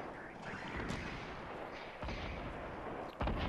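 Grenade blasts in the Fortnite video game, a few heavy booming bursts over a constant roar of game noise, the loudest hit near the end.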